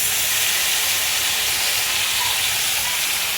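Cumin, mustard seeds and chillies sizzle in hot oil in a pan for an okra and potato curry, giving a loud, steady, close hiss that fills the whole stretch.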